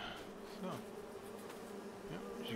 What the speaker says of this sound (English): as you can see, the little bees flying out of there